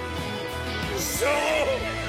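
An animated horse, Tornado, gives a whinny midway through, a short rising-and-falling neigh over a faint background bed of cartoon music and ambience.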